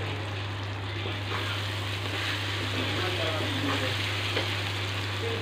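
Bitter gourd (karela) sabzi cooking slowly over a low flame, a steady, dense sizzle of frying that continues evenly throughout with a constant low hum underneath.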